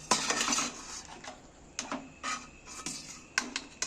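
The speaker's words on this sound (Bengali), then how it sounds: "এই ডিশটার মধ্যে থালাটার মধ্যে আমি তুলে নিচ্ছি জলটা যাতে ঝরে যায়" Boiled wheat-flour dough pieces are lifted out onto a plate to drain, with scattered utensil clatters and scrapes against the dish in short, irregular bursts, close and moderately loud.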